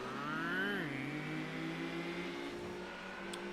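Pikes Peak Escudo race car engine in Gran Turismo 2, a loud continuous whining drone that climbs in pitch, then holds steady and high for several seconds.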